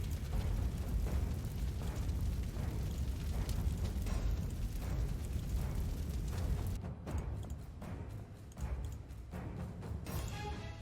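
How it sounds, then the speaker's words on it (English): Deep booming artillery explosions in the wartime strategy game Panzer Corps 2, a continuous heavy rumble of blasts that thins out partway through into scattered sharper impacts, loud and close with no voices. "Artillery is going to support against us."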